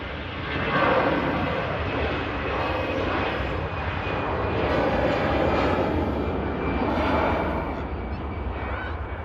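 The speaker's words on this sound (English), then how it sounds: "EasyJet taking the intersection departure out to Paris." An EasyJet jet airliner makes an intersection departure from Manchester Airport bound for Paris, with a broad, sustained engine roar that rises quickly and holds steady at a moderate distance.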